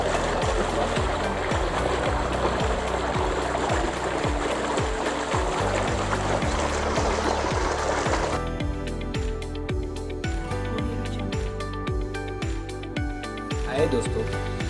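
A swimming pool filter running, with a steady rush of flowing water through the first half beneath loud rhythmic background music, after which the music carries on alone.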